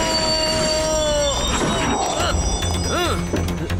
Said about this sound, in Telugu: ఈ ట్రైన్ అసలు ఆగదు.